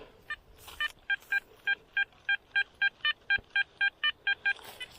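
A Garrett Ace Apex metal detector gives a run of about fifteen evenly spaced electronic beeps, sharp and close, during a treasure hunt, with no talk over the tones.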